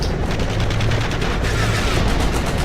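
Heavy, continuous gunfire from several weapons in the video game Code of Honor, a loud, rapid fusillade of overlapping bursts that runs the whole time.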